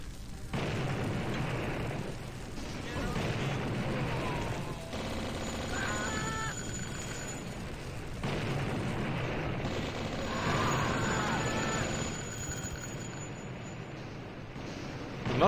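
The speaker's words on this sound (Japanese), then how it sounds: "施設を爆発してんのかな。" Explosions and bursts of gunfire from the retro first-person shooter game Blood, steady dense game noise running throughout at moderate level with a few brighter bursts, no talk.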